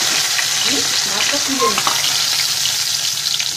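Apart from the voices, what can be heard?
boal fish frying in oil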